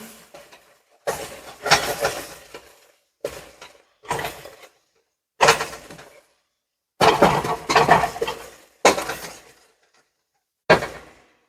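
Beans being stirred in a cooking pot, a series of loud clattering, scraping bursts of uneven length separated by short silences, metallic and close.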